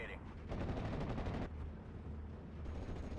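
Machine gun fire in the WWII Normandy strategy game Steel Division: Normandy 44, a dense continuous rattle of automatic bursts mixed with other battlefield gunfire, loud and sustained throughout.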